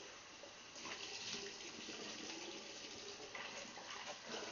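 Running tap water splashes steadily as a face is rinsed under the faucet, a continuous close gush of water over a sink with slight surges and no talking.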